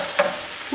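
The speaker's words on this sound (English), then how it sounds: "The reason why I take long to cook turkey bacon is because they don't get crispy like real bacon." Turkey bacon frying in a pan gives a soft, steady sizzle with a short scrape of stirring, quiet and brief with no talk.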